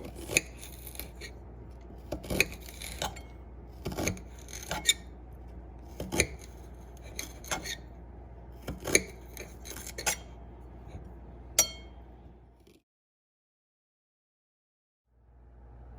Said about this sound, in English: Now you're going to cut it into slices.